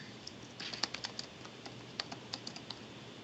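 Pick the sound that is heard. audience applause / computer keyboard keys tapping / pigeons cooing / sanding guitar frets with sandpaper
computer keyboard keys tapping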